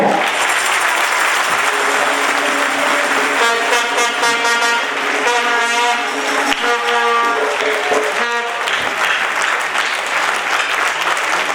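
Loud, dense applause by acclamation from members at a general meeting, sustained throughout, with a stretch of harsh tonal sound in the middle like horns or a musical blare over the clapping.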